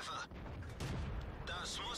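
Tank cannon fire in World of Tanks during a T71 battle, heavy booming shots with rumbling tails, loud and close, over continuous game noise and a commentator talking.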